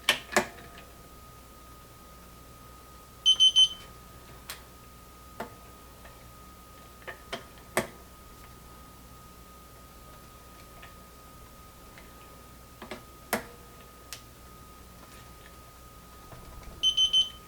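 Electronic torque wrench tightening a scope mount on an LPVO, giving short bursts of three quick high beeps twice, well apart, alongside scattered light clicks and taps of the tool in a quiet room.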